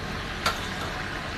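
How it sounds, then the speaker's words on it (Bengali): Whole garam masala spices sizzling in hot oil in a frying pan while chicken for morog polao is cooked; a steady, even sizzle with one brief crackle near the middle. "তারপর আমি তেলে একটু গরম মশলাগুলো সব দিয়ে দেবো"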